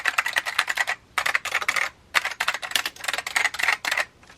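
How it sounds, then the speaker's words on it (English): A clicky mechanical keyboard from a thrift resale rattles under quick bursts of typing, sharp crisp clacks in three rapid runs separated by short pauses, close and alone. "I always recommend keeping an eye out for these clicky keyboards."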